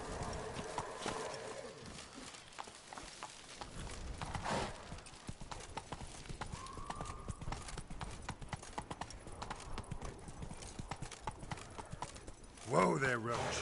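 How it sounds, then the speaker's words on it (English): Horse hooves clip-clopping steadily as Roach trots in The Witcher 3: Blood and Wine, with a brief whinny and game ambience, while someone talks over much of it. "Whoa there, Roach"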